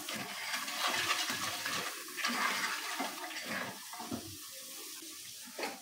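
Water pours steadily into a pan of frying spices for Karachi-style chickpea curry, a continuous hissing, splashing rush that stays loud and close throughout with no talking.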